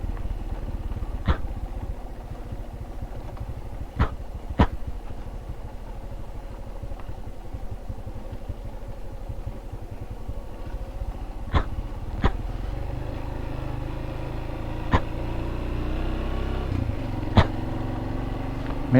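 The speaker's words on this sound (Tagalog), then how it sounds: "Ito may motor dito eh, oh." A Honda XR200 trail motorcycle idles steadily and low on a forest trail, a continuous rumbling drone with a few sharp clicks scattered throughout.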